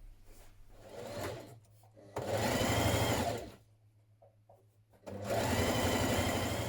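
Sewing machine running in two long bursts of stitching with a quieter pause between, seaming the back skirt pieces of an easy Vogue 9075 dress.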